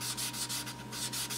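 High build primer being sanded by hand, a close, rhythmic back-and-forth rasp with about eight quick strokes, each a bright scratchy swish over a faint steady hum, no voices.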